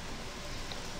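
Rain falls indoors in the video game Mini Ninjas, a soft steady patter of raindrops with no other sounds.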